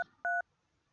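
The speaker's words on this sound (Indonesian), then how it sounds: "Kita coba lakukan telepon atau menghubungkan secara telepon di klien" A VoIP softphone dials a call with two short dual-tone beeps: a faint clipped tone at the start, then a loud, clear one, followed by quiet room hiss.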